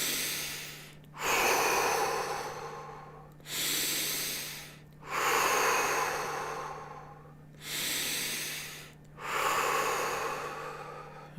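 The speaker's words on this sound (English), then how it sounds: "We're going to take some deep cleansing breaths." Slow, deep cleansing breaths are taken close to the microphone, long airy inhales and exhales rising and falling in a steady rhythm over a faint constant hum.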